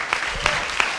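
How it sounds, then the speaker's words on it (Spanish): Audience applause at a literary conversation event, a dense steady patter of clapping with a few sharper claps standing out. "quisiera pedirles a ustedes un aplauso para Mauricio Lectorat."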